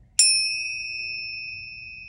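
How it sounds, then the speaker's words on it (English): Tincture bells struck once, giving a sharp metallic strike that rings on as a clear, sustained, slowly fading tone in a quiet room. "here are the tincture bells, and they're very good at clearing energy, raising vibration"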